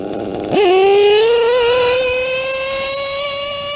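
A small high-pitched LRP ZR .30 nitro RC engine snaps up to full throttle and holds a loud, sustained whine, pitch wavering slightly as it screams close by.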